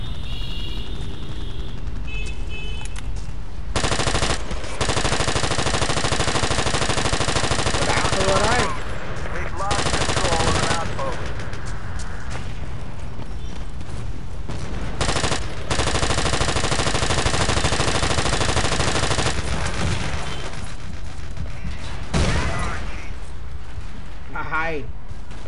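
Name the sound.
machine gun fire in the video game Battlefield 2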